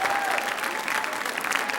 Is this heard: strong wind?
no